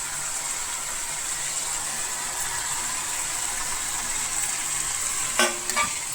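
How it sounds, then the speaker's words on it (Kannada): Grated coconut is stirred into a Havyaka-style snake gourd stir-fry cooking in a pan. A soft, steady sizzle holds throughout, with a couple of sharp utensil scrapes near the end and no talking. "ಈಗ ಇದಕ್ಕೆ ನಾನು ಸ್ವಲ್ಪ ಕಾಯಿ ತುರಿ ಹಾಕ್ತೇನೆ"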